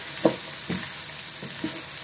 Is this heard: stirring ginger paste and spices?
yes